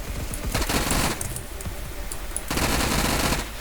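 Rapid automatic gunfire from a high-fire-rate MP7-style submachine gun in Roblox Phantom Forces comes in two sustained bursts, loud and close, separated by a short gap with lighter shots.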